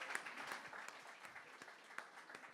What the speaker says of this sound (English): can we have a round of applause for Rebecca Milloy, Thomas Wood, and Becky Fletcher